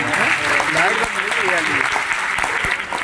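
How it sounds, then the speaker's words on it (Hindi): A large seminar audience bursts into loud, sustained applause, dense overlapping claps filling the hall, with voices calling out over the clapping. "एक बार जोरदार ताली बनती है नहीं?"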